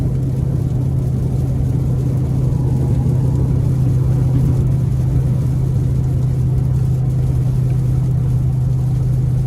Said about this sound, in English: the way that it's able to accelerate like that, yeah, gosh, it's wild